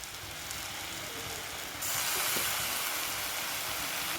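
About 300 grams of oyster mushrooms sauté in a hot pan for biryani, giving a steady, close hiss that jumps louder partway through.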